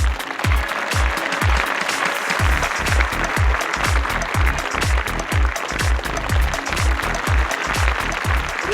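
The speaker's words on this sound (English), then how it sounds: "Ladies and gentlemen, please let's welcome with a warm round of applause, Mr. Lars Anders." Sustained applause from a large audience at an award ceremony, dense steady clapping with rhythmic low thumps, loud and continuous throughout with no talking.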